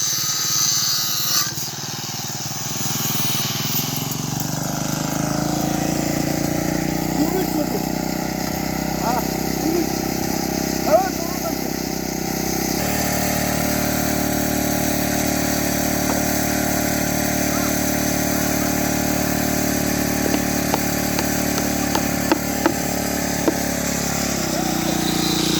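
A motor engine running at a construction site, a steady droning hum that grows louder and persists throughout, with scattered knocks and clatter of work and people talking over it.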